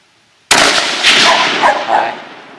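A single sharp, close shot from a Savage Model 10 .223 rifle at an outdoor range, firing at a 200-yard target, with a short ringing tail.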